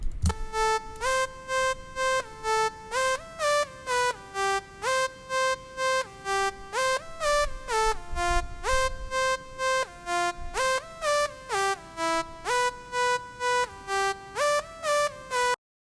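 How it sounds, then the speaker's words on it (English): A Sylenth1 synth lead built from a four-voice saw wave and a noise oscillator plays a bright, chopped pattern of rapid stepping notes in a steady repeating rhythm, loud and alone. "For this, I'm using Silent 1 with two oscillators, one with saw wave with 4 voices, and the other one is just noise"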